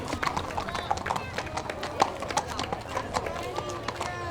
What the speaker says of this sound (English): And some beautiful horses.